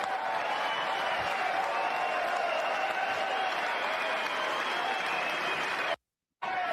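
An audience at a political speech gives sustained applause during a standing ovation, a dense, steady roar of clapping with crowd noise that cuts out briefly near the end.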